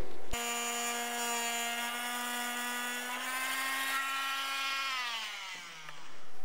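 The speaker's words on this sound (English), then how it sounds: "you take a multi-tool like us, but be very careful that you don't damage the cables" A multi-tool cuts into motorcycle fairing plastic on a GASGAS 700, giving a loud, steady high-pitched whine that holds for several seconds, then drops in pitch and winds down.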